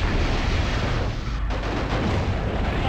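Relentless weapon fire and rumbling explosions in a MechCommander Gold mech battle, a thick, loud wall of blasts with a short lull midway before the barrage resumes.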